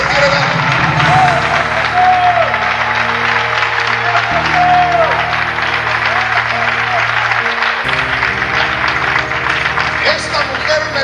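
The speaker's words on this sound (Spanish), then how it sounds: "Denle un aplauso al rey si se lo quiere dar." A church congregation applauds for the king in a steady, loud wash of clapping that lasts throughout, with sustained musical chords playing underneath.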